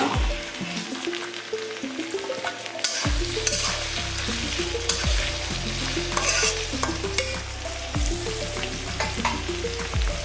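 Ginger garlic paste hitting hot oil in a pan for a Bengali prawn curry, a busy crackling sizzle with repeated scraping stirs of a spatula, close and continuous.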